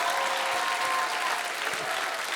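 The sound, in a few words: audience applause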